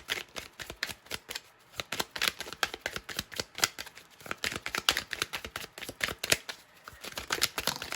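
Tarot cards shuffled steadily by hand before one is drawn, a continuous run of quick, close papery riffles and flicks with no voice.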